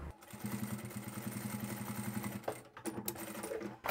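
A sewing machine stitching around the seam of a DIY duffle bag runs in a fast, even mechanical chatter for about two and a half seconds, then stops and gives a few short starts and clicks.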